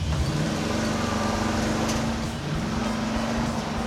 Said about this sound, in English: With the spool, it just drifts so easy.